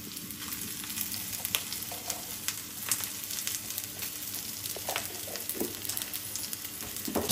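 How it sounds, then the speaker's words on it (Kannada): Cinnamon, cloves and Byadgi chillies fry in hot oil for chicken biryani, giving a steady close sizzle and crackle with occasional sharper pops and light stirring throughout. "ಚಕ್ಕೆ, ಲವಂಗ, ಬ್ಯಾಡಿಗೆ ಮೆಣಸಿನ್ಕಾಯಿ ಇದು ಎಲ್ಲ ಚೆನ್ನಾಗಿ ಫ್ರೈ ಆಗ್ತಾಯಿದೆ"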